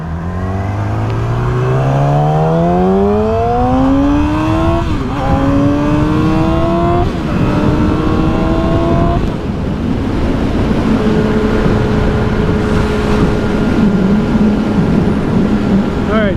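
A 2007 Yamaha R6 sportbike, near-stock with factory catalytic converter, accelerates loudly through several rising gear pulls with brief shift dips, then settles into a steady high drone.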